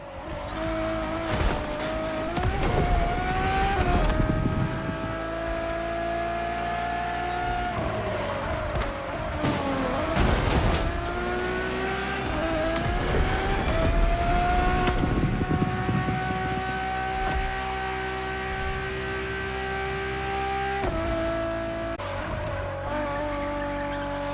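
A Ferrari road-legal hypercar driven in The Crew Motorfest racing game, a loud high-revving engine climbing through repeated gear shifts with sweeping pitch rises, tire squeals and passing whooshes over about twenty-four seconds, no talking.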